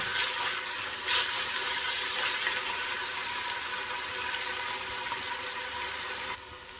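Fresh curry leaves and spices frying in a pot for Durban-style Cornish chicken, a soft steady sizzle with a brief louder crackle early on, fairly quiet and without talk.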